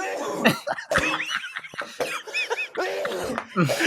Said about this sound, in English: He's coughing along.